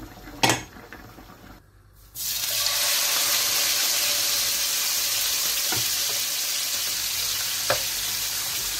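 Chatina fish frying in oil in a pan: after a quiet start with a single clack, a loud, steady sizzle takes over and runs continuously, with a few faint clicks on top.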